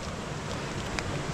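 A TT bike rolls through a fully flooded road, giving a steady wash of water spray and wind rush with no voices.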